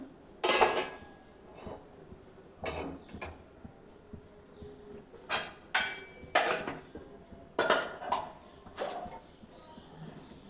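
Metal pan set down on a kitchen stove with several sharp clanks and knocks, close and fairly quiet, spaced irregularly over a few seconds of a home cooking session.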